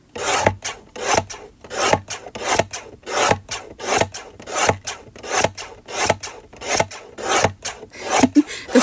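A Concord & 9th stamp and die set cuts a paper Christmas card, producing a close, steady series of rhythmic rasping, scraping strokes, roughly two per second, with no voices.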